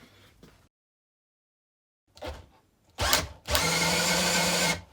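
A Makita DHP458 cordless drill driver, its chuck and gearbox freed after being jammed, gives a couple of short bursts and then spins in a loud, steady whir for over a second after a brief silence.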